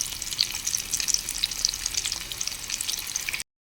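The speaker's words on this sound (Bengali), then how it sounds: "মিডিয়াম আঁচে এগুলো ভেজে নেব" Banana flower cutlets fry in oil over medium heat, giving a steady close crackling sizzle with dense small pops throughout, no voices.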